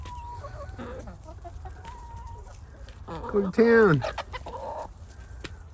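Chickens, including a Polish hen, cluck softly and squawk while eating scrambled eggs and crushed eggshells, with one loud squawking burst near the middle, and a person speaks briefly.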